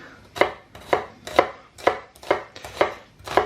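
A knife chops an onion on a board with seven steady, evenly spaced crisp strikes, close and clear, with no talking.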